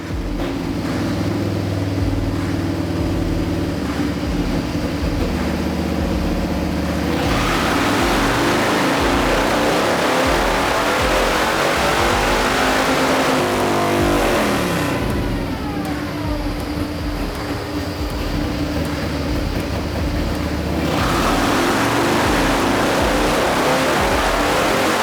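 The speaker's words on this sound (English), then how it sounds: "I've pretty much finished up on the dyno with this 114 with the 483 cam" A Harley-Davidson Low Rider S with a 114ci engine and 483 cam runs loudly on a dyno, a continuous heavy engine roar that rises and falls through rev sweeps with no talk.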